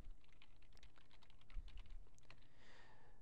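Quiet keystrokes on a computer keyboard tapping in an irregular, continuous rhythm, close but soft, with no voices.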